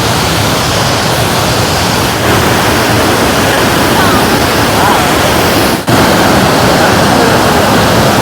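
Thommankuthu waterfall deep in a forest, a loud continuous roar of falling water that fills the whole clip, steady and broadband, with a brief dip near the end.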